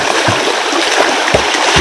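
Fast, swollen river water after rain at Gowil near Lanja, Ratnagiri, rushing steadily in a broadband wash with a few low splashing thumps, close and continuous.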